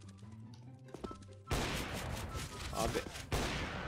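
Gunfire in the CS:GO video game, a burst of loud, dense shots that erupts suddenly after a quieter opening and continues in close rapid volleys, with a man's brief remark.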